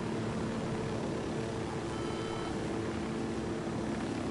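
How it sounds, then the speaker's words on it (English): Helicopter in the video game Ghost Recon Wildlands, a steady droning rotor and engine roar held at even loudness throughout, with no talk over it. "look at my helicopter."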